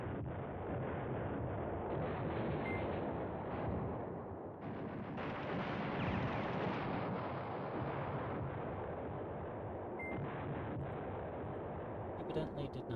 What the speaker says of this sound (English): We'll try to put some arty down on those tanks.